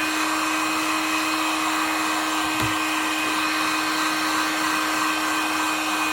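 A heat gun blows hot air onto a freshly applied coating on a van, a loud, continuous, even roar with a steady whine and one faint knock partway through.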